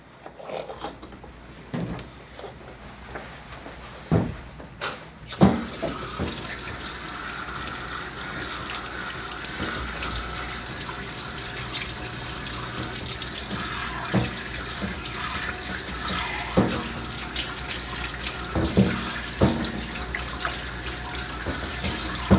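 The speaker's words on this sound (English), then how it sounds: "we're gonna do a rinse off here." Water runs steadily to rinse a shih tzu during grooming, a continuous hissing spray that starts after a few quiet knocks and keeps going at moderate loudness, with occasional splashes and clunks.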